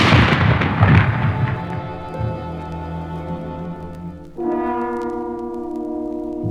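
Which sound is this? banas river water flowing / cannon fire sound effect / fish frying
cannon fire sound effect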